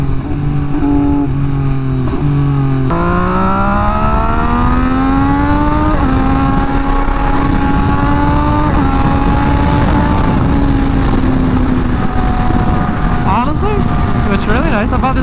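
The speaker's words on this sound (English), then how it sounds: "The shifts on this bike sound very nice." A 2023 BMW S1000RR M Package sport motorcycle engine revs up loudly and close, climbing in pitch and dropping with each gear shift, under heavy wind noise.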